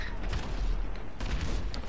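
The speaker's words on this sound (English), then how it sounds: "Oh my god, there's so much gunfire right now." Rapid gunfire in the video game GTA 5 during a pedestrian riot mod, dense overlapping shots crackling continuously and loudly throughout the short stretch.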